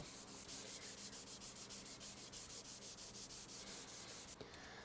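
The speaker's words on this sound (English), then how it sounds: "So I've got some 1000 grit on my little round block right here" Sandpaper of 1000 grit on a small round block rubs back and forth along a guitar fretboard, a steady rhythmic scratching of about twenty close strokes with no talk.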